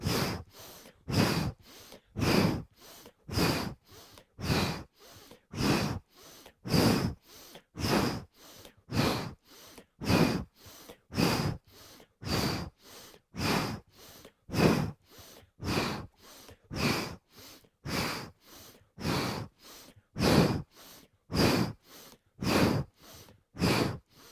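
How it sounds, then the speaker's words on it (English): Steady rhythmic pranayama breathing during a yoga session, alternating inhales and exhales through the nostrils in an even, repeating cycle of about two dozen close, distinct breaths with no talking. "Inhale left, exhale right."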